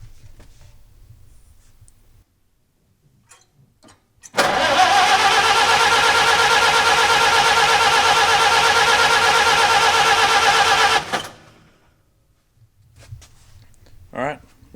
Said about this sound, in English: We're gonna crank on this thing, see if we can't get a little oil pressure built up.